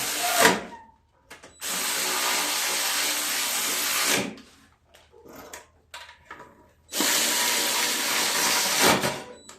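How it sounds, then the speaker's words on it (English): Power tool tightening down the shroud on a Craftsman push mower with a Briggs & Stratton engine, heard as two loud sustained bursts of a few seconds each, separated by quieter clanks and handling noise. "We're going to go ahead and tighten this down."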